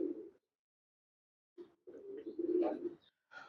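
Pigeons cooing up close in short, soft, throaty bursts separated by a silent gap, with a couple of low rolling coos and a brighter call at the end.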